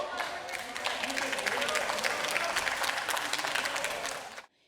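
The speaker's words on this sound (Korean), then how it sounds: "연설 도중 자리를 떠났던 통합당 의원 일부가 돌아와 박수를 보냈고" Lawmakers from the opposition party applaud in a legislative chamber, a dense, steady wash of clapping that holds loud for about four seconds and then cuts off abruptly.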